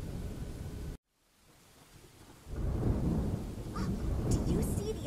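Storm thunder from the Phonics Island app game: a sudden cutoff into near silence, then a low rolling rumble builds and swells into a loud, sustained thunderous roar with hissing noise above.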